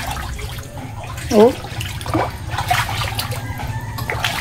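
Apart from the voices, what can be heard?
floodwater flowing through a house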